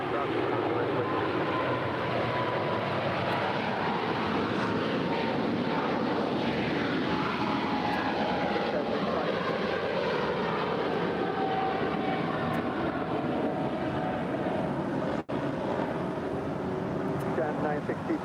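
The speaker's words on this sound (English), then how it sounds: "This is DHL Flight 962 departing to Cincinnati. It's a 3-year-old Boeing 777 freighter with a white nose." A three-year-old Boeing 777 freighter departs Los Angeles International Airport, its jet engines a continuous, loud roar that holds steady throughout.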